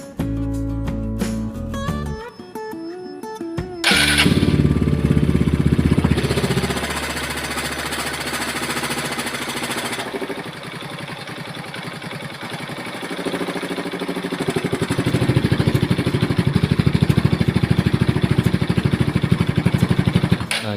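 A Yamaha Scorpio motorcycle engine, freshly topped up with oil, starts after some clattering and settles into a steady, loud idle that continues close up without speech.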